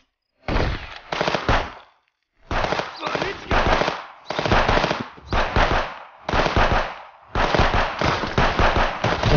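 Rapid automatic gunfire in the video game Contraband Police, fired in loud, close bursts of one to two seconds separated by short pauses, with one longer gap near the start.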